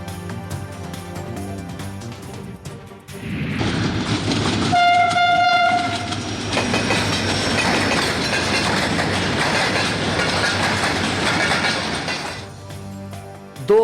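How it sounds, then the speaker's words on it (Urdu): The Awam Express passenger train, running from Karachi to Peshawar, rumbles loudly past with a sustained horn blast, then carries on with heavy rolling noise and clattering wheels on the rails. "کراچی سے پشاور جانے والی ٹرین عوام ایکسپریس کے ذریعے آپریشن کا آغاز"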